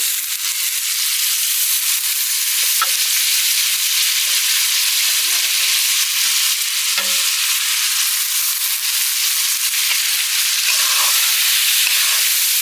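Mixed lentils and rice fry in a pot for village-style khichuri with rainy-season vegetables, a loud, steady sizzle and hiss with faint stirring knocks.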